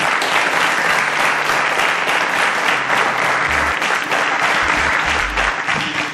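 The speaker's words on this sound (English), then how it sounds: "A round of applause for our contestants." A studio audience gives a round of applause for quiz show contestants, a dense, steady wash of clapping that fills the whole stretch at a loud level, with low rumbles underneath.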